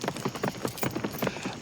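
Horse hooves clopping in a quick, irregular rhythm over loose gravel, fairly close, with crunchy scraping between the hoofbeats.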